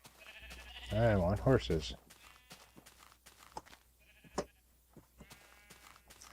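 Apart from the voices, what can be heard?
sheep bleating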